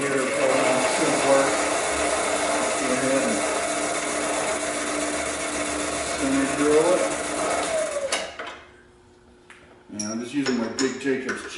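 A step bit turning in a big Jacobs chuck bores into steel for a Jeep JK rear upper control arm mount, a steady whirring drill load for about eight seconds, then a quiet pause before clanking and rattling of metal parts.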